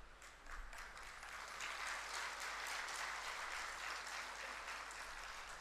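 Audience applause at a spiritual discourse by Shoonyo Ji Maharaj, a dense, steady wash of many hands clapping that swells in the first half-second and holds at an even level throughout, with no voices over it.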